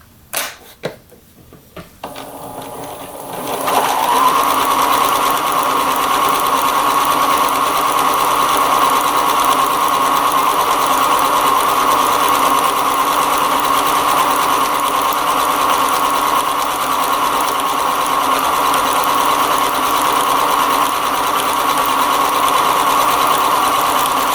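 A sewing machine stitches a buttonhole on a Star Wars jacket, starting after some brief clicks and handling, then running a long, steady, close mechanical hum with fast needle ticking for about twenty seconds.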